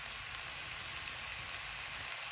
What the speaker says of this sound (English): wait for the oil to heat up, and then scramble the eggs in there